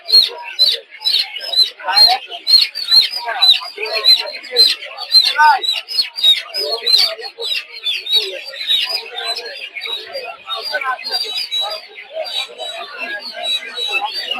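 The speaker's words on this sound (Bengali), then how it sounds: "এই যে হচ্ছে টাইগার মুরগি ছোট ছোট বাচ্চা" Tiger chicken chicks at a poultry market peep constantly in a dense, high-pitched chorus of overlapping rapid chirps, loud and close throughout.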